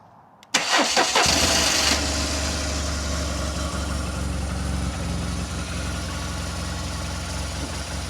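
BMW R1200GS motorcycle with 97,000 miles and many accessory mods cranks briefly and fires up, then settles into a steady, loud, close idle with an even low throb and no talk.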